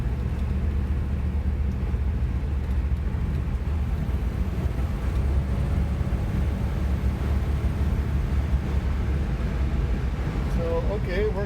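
A 1955 Ford Thunderbird on old bias-ply tires drives down a road, a steady low engine and road rumble heard from inside the car, loud and continuous throughout.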